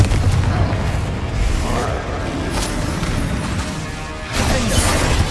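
Fiery Confringo spell blasts in Hogwarts Legacy, a dense run of booming, crackling explosions amid continuous loud game combat noise, with a stronger burst near the end.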